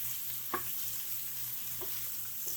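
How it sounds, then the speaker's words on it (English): Steady hissing sizzle of steak searing in a hot enamel-coated cast iron frying pan, with a few soft clicks of utensils, constant and fairly quiet. "I like to sear the steak on both sides"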